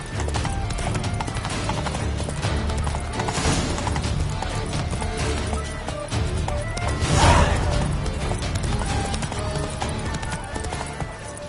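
Roach, Geralt's horse in The Witcher 3, gallops with steady, loud hoofbeats that run continuously throughout, over a busy mix of game sound and a swell of noise midway.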